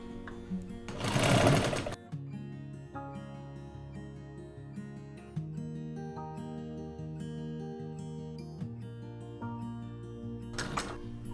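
A sewing machine stitches denim jeans fabric for a handmade bag, running steadily for several seconds with a louder, rougher burst near the start and another at the end.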